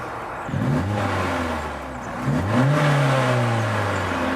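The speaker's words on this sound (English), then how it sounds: "Start the engine," A VXR Nürburgring car with a 6-speed manual gearbox cranks and catches, then settles into a steady idle before revving briefly and easing back to a smooth rumble.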